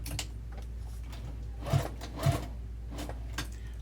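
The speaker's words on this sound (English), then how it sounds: "now I'm just going to sew down one side, across the bottom and around" A sewing machine runs a half-inch seam down the side and across the bottom of a vinyl tote bag with a zipper overlay, giving a soft steady mechanical whir with a few louder clunks, close by, with no talking.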